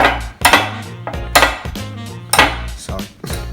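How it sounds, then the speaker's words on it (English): A whisk scrapes and clinks rhythmically against a bowl while chocolate ganache is stirred for a corn cake, with repeated strokes close up. "Now you're going to whisk it a little bit."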